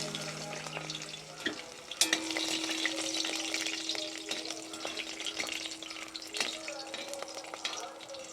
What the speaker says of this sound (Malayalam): അതും കൂടെ നമുക്കൊന്ന് വറുത്തെടുക്കാം.